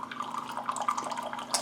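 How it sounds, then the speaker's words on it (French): Hydrogenated water is poured into a drinking glass until it is about half full, a close, steady splashing trickle with bright liquid gurgles and no talking. "je vais mettre ici dans ce verre de l'eau hydrogénée"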